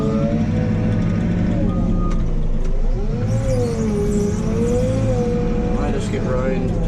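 A tractor or farm vehicle engine runs loud and steady as it drives in through a widened farm shed entrance, with a reversing beep sounding and a tonal whine rising and falling throughout.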